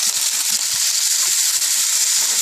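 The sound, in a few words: snow peas sizzling as they are added to the pan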